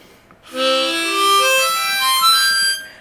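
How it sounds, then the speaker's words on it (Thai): A ten-hole harmonica plays a rising run of blown notes, each held briefly and blending into the next, clear and close with no talking. "อันนี้คือเป่าเสียงเข้าอย่างเดียว"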